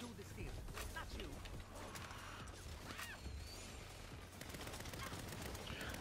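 Gunfire from the video game Saints Row, dense bursts and scattered shots rattling throughout amid game effects, with voices talking underneath.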